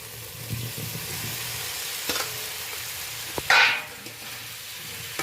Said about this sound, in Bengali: মশলার সাথে হালকা করে একটু নেড়ে নিচ্ছি